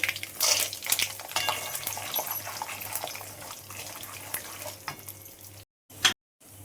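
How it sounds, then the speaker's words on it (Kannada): Peanuts fry in a pan with a steady soft sizzle and crackle, joined by occasional stirring scrapes, fairly faint and close, with a low hum underneath. "ಕಡಲೆಕಾಯಿ ಬೀಜ ಹಾಕೋತಿದ್ದೀನಿ"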